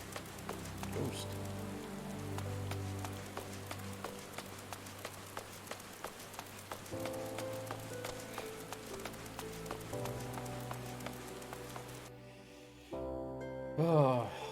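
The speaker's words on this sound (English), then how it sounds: "it's raining in the desert." Steady rain falling across a desert region in the Final Fantasy game world of Central Thanalan, a continuous soft patter laid over a layered musical score, with the music dropping away briefly near the end.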